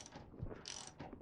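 Nuts and bolts being fitted and ratcheted tight on a classic Austin Mini rear subframe, a short burst of quick close-up ratchet clicks with faint metallic rattles and no talking.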